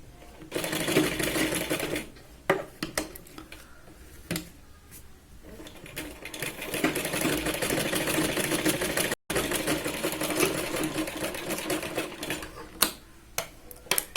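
Sewing machine stitches a katori blouse at the cup point in rapid mechanical bursts, a steady run with short stops and restarts, close and fairly loud with no talk.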